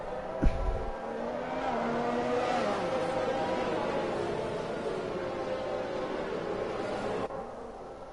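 Formula 1 race cars at Bahrain under safety car conditions in a Codemasters F1 video game, a steady engine drone with a brief sharp onset near the start, running continuously under a commentator's voice.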